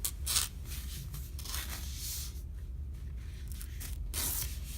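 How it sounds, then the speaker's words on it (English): Paper is torn by hand in several short, rough bursts near the listener, with quieter rustling and scraping between tears. "And then just rip it like this."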